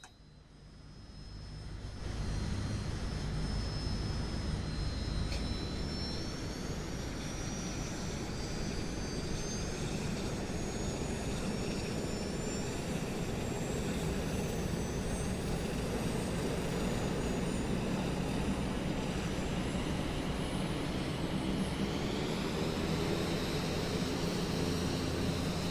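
Twin turboprop engines of a Piaggio P180 Avanti II run in Microsoft Flight Simulator 2024, a continuous steady drone with a faint rising whine, alone with no talk.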